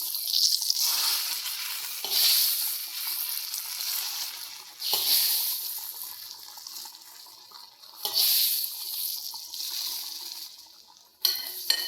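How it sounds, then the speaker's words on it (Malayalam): Repeated bursts of loud sizzling hiss as fried mustard seed tempering is poured into a drumstick, jackfruit seed and mango curry, each flaring up then fading over a couple of seconds, close and without talk. "കടു വറുത്തത് ഒഴിച്ചു കൊടുക്കുക"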